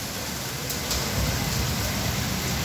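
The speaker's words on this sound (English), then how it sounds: "So you see, so this is raining here." Steady rain falls over Dhaka, Bangladesh, recorded from a third-floor residence: a dense, even hiss of drops hitting surfaces, loud and unbroken throughout.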